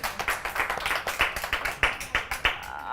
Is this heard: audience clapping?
yes